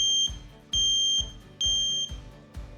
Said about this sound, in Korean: 요즘은 그런 앞전 소자를 이용해서 이렇게 작게 부저들을 만들어요.